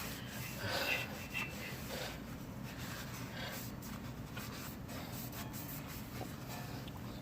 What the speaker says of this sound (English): I'm just taking off all them stains, greasy stains